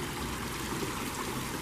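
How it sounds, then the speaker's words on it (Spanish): A small outdoor water fountain in front of an office trickles and splashes steadily, a close, continuous, fairly loud watery rush with no talk over it. "aquí está una fuentecita de agua"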